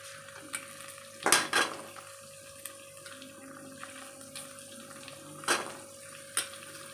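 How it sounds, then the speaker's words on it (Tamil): Soaked turkey berries sauté in hot oil in a pan, a soft steady sizzle broken by a few louder stirring scrapes and clinks of the spoon against the pan. "இப்போது நம்ம தண்ணியில் போட்டு வச்சுருக்கிற சுண்டைக்காயை அதோடு சேர்த்து அதையுமே நல்லா எண்ணெயிலே வதக்கிக்கலாம்."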